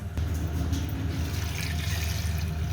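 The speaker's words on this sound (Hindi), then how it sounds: "पानी में भी थोड़ा और डालूँगी" Water pouring into a pan of sugar syrup with carrots for gajar ka murabba, a steady splashing trickle with a low gurgle, continuous and close, with no voices over it.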